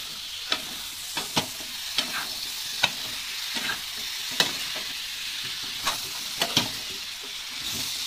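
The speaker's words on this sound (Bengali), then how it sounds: "কুমড়োটা ঢেলে দেবো আগে থেকে কেটে আলু আর কুমড়া কেটে ধুয়ে রেখেছি দেখো ভালো করে একটু কষিয়ে নেবো এভাবে" Cut pumpkin and potato are stir-fried in a pan with onion for a prawn curry. A spatula scrapes and knocks in irregular strokes over a constant close sizzle.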